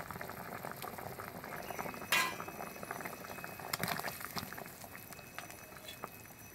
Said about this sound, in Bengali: ঝোলে জাল উঠে গিয়েছে, এর ভেতরে আবার একটা বেগুন দেবো।